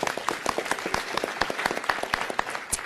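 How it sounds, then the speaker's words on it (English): A room of people at a city council meeting gives a short round of applause for a girls' under-10 youth soccer team, with fairly distinct, moderately loud claps that continue steadily without talking. "Nice round of applause for them."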